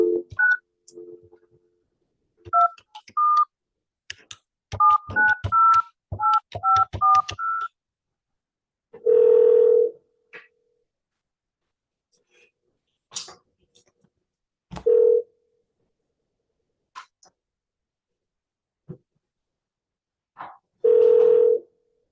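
A phone keypad sounds a quick series of touch-tone digits, then a ringback tone repeats in long, evenly spaced pulses with quiet gaps between, close and clear.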